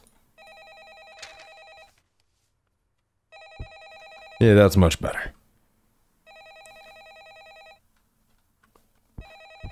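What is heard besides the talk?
telephone ringing in a horror video game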